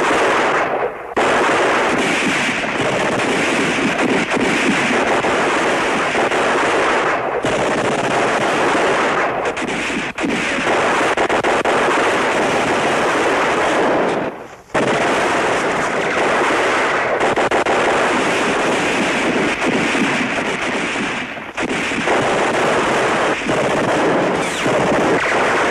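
A battle scene from the 1966 war TV series Combat, with dense continuous gunfire, rapid machine-gun bursts and heavy artillery-like blasts filling the whole stretch, loud and distorted, broken by a few brief pauses.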